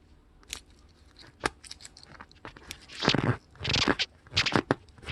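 Close crinkly crackling and sticky tearing sounds of tape peeling off a bicycle tire come in short bursts, then grow denser toward the end as the tape is peeled away.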